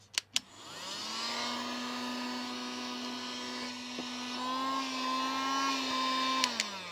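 Cheap handheld eBay vacuum cleaner switched on after two clicks, a steady whining motor hum that rises slightly in pitch and runs for several seconds before clicking off, close and fairly quiet.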